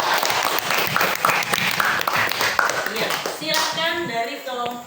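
A classroom full of people claps together in a quick, dense burst of applause, then fades as a voice begins speaking over the tail.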